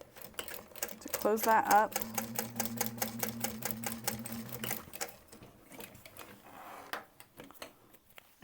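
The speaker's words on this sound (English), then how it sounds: "So I'm going to sew across as much of this as I can down here at the bottom" A sewing machine stitches across the bottom of a small waistpack in rapid, steady mechanical bursts for a few seconds, close by, with a person talking quietly over it before and after.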